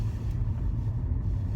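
A car driving at night on the way back to Luton, with a steady low engine and road rumble filling the interior, continuous and even throughout with no voices.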